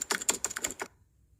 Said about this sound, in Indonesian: cari suaranya, cari yang keyboard typing